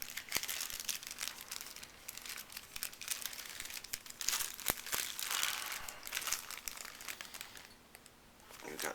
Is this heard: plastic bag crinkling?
yes